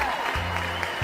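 A cartoon crowd cheers and claps in a brief, dense, steady burst of applause that stays loud from start to finish.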